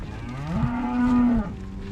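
Cattle in a farm herd give one long, close, loud moo that swells and then cuts off, standing alone with no talk over it.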